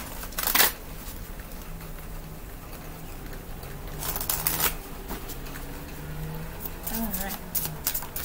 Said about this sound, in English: A few shuffles.